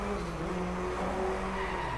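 Tires skid and squeal continuously as a Vhul 05 with a 2-litre 16V EcoBoost engine fishtails in the racing game Driveclub, with the engine droning underneath the skid.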